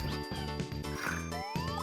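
A Super Mario Maker P-Balloon is struck with upward momentum, giving a bright rising synthesized sweep over bouncy game music with a steady beat.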